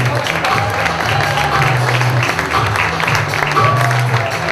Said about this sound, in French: Je vous demande d'applaudir encore une fois très fort Marion et ses domaines.